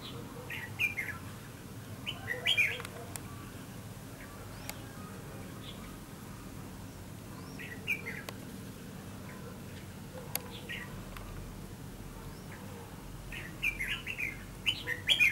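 Red-whiskered bulbuls give short bright chirping calls in bursts, scattered through a quiet outdoor scene with faint background hiss, moderately distant.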